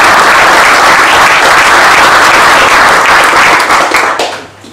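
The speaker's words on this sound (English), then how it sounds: "If we could have a round of applause for Tommy and everybody else who puts in all the hard work on a voluntary basis" Loud, dense audience applause at a club fundraising event, steady clapping from a crowd that holds for about four seconds before tapering off at the end.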